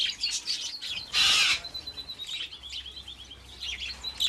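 Wild budgerigars chirp in the Australian bush, a flock's busy high twittering running throughout with one louder, harsher burst of calls early on, moderately close.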